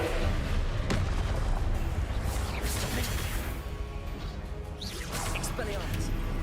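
Confringo fire spells blasting in the Hogwarts Legacy video game, a dense run of booming, whooshing explosions and impacts mixed with continuous battle noise and shouted voices over the top.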